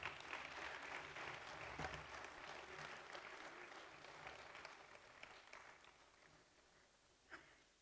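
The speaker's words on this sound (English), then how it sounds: "Can I have a round of applause" A faint round of applause from a panel session audience at a global business leadership event, steady clapping for about eight seconds that slowly thins out, with one louder burst near the end.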